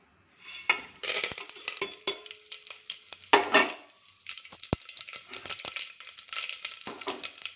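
Mustard seeds, dals, cumin, fenugreek, garlic and curry leaves spluttering in hot oil, a close, steady crackle of sharp pops and sizzles with occasional louder bursts, no voices.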